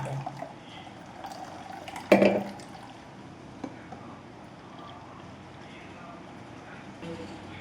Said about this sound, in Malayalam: അടിച്ചെടുത്ത മുന്തിരിയുടെ ഇത് ഞാൻ ചെറുതായിട്ട് അടിച്ചിട്ടുള്ളൂ കേട്ടോ ഞാൻ അരിച്ചൊഴിക്കുകയാണ്